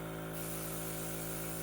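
Airbrush spraying paint in thin layers of complementary colours onto a painted miniature, a steady close hiss of air and paint with a faint constant hum beneath, no talking.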